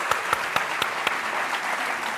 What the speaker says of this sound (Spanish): un fuerte aplauso para la vitrola de esta sí